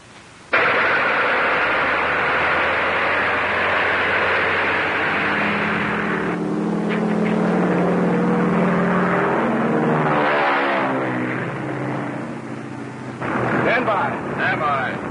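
The engine of a 1930s radio-controlled propeller target plane starts and runs with a loud, steady roar, changes pitch midway and keeps droning.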